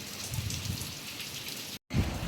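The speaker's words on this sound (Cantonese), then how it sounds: "啲雨水幾鬼大" Heavy rain pours down steadily at a Hong Kong seaside park fishing spot, a loud dense hiss with low drumming, briefly cut off near the end before resuming.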